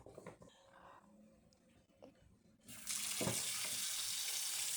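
Tap water gushes into a container to soak food in a home kitchen, a loud steady rush starting partway through after quieter clinks and handling sounds.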